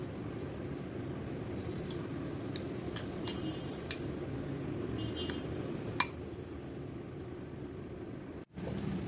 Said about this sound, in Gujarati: હવે આ બધી વસ્તુને સારી રીતે મિક્સ કરી લેવાની છે.